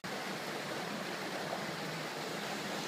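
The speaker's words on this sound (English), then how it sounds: "That's a deep waterfall too" A waterfall pours into a deep pool in a desert canyon ravine, a steady, loud, broadband rush of water that stays even throughout, with no voices.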